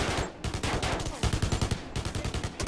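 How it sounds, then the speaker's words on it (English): Rapid automatic gunfire in the shooter game Blackwater, dense overlapping bursts of shots rattling continuously at fairly close range with brief gaps between volleys. "What are they shooting at?"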